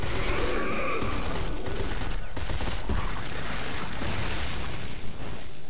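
Rapid automatic gunfire from a weapon in the sci-fi horror video game Dead Space 3, a dense sustained burst of shots filling the whole stretch, loud and close with no talk over it.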